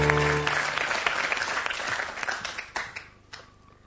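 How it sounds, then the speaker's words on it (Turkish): Studio audience applause on a Turkish TV show, loud crowd clapping at first that thins and fades over a few seconds, with a faint voice underneath. "Alkışlıyoruz."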